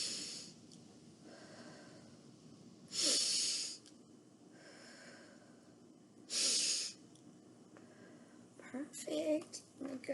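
A person imitates a bunny's breathing with two loud bursts of quick sniffing inhales through the nose, separated by quieter breaths, followed by a few short huffs at the end.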